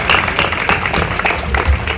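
An audience at a school annual sports meet gives a short burst of applause, a dense, fairly close patter of many hands clapping.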